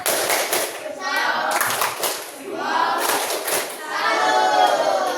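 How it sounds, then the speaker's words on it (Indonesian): A primary school class performs the rhythmic 'tepuk salut' clapping chant together. Patterned bursts of many hands clapping alternate with children's voices chanting along, loud and close throughout. "Kita kasih tepuk salut terlebih dahulu."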